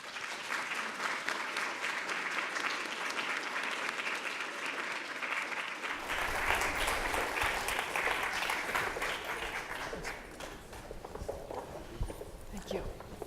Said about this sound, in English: Let's give our panelists and moderator a warm round of applause.